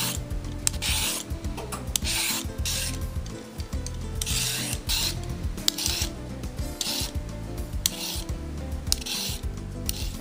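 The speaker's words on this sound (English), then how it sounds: "I'm going to begin by peeling my carrots and my parsnips." Carrots and parsnips being peeled, with brisk rasping strokes repeating in an uneven rhythm for ten seconds, close and fairly quiet, with no voices.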